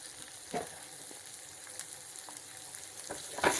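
Garlic cloves and small shallots sautéing in a pan over medium flame, a soft steady sizzle broken by occasional spatula scrapes and taps, faint and without voices.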